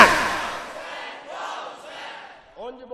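A crowd at a religious gathering, answering a speaker's call, shouts a slogan back in one loud surge that trails off into a reverberant roar, and a voice starts speaking right at the end.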